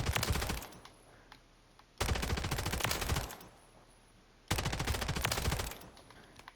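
Submachine gun fire in a video game comes in three long, loud sustained bursts of rapid automatic shots, each followed by a short lull of quieter ambience.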